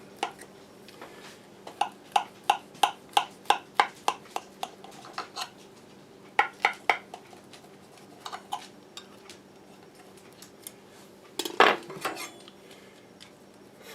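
A utensil cuts and scrapes through a slice of freshly baked pork cake in a metal pan, giving a series of quick rhythmic clinks, a pause, another short run, then a louder scraping clatter near the end.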